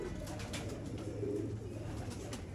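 Teddy pigeons coo softly in a low, rolling murmur under a constant background hum, faint and without voices.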